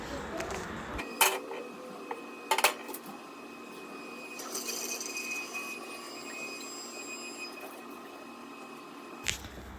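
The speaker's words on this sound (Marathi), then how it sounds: "एवढी भांडी आता मी घासायला घेतलेत उठल्या उठल्या" Dishes clink and clatter in a sink, with a couple of sharp knocks of pots and utensils and a faint, thin trickle of water in between.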